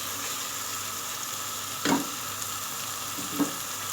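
An onion and tomato masala sizzles steadily in a pan for an egg kofta curry, a constant close frying hiss broken by two brief spoon scrapes as it is stirred, with no voices.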